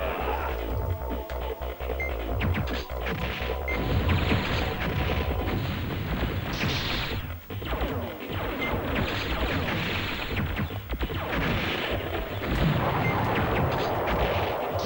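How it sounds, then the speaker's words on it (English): Turrets firing in the video game Silent Bomber, a dense and loud barrage of gunfire and blasts layered over a busy game soundtrack without letup. "These are the guns, the turrets. They're shooting things down off the sky."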